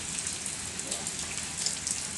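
Droplets of water fall like rain onto a waterproof outdoor jacket, making a steady, soft pattering hiss that stays faint and even throughout.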